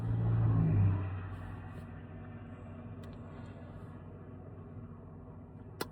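Heavy trucks speed past on a highway at night, a loud low rumble swelling in the first second then settling into a steady distant roar of traffic.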